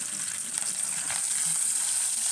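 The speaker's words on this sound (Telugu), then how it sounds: "ఉల్లిపాయ, పచ్చిమిరకాయ, కరివేపాకు నూనెలో వేసుకుంటున్నాం." Onion, green chilli and curry leaves sizzle steadily in hot frying oil for a pepper-curry dish, giving a dense, even hiss that stays close and loud throughout with no talking.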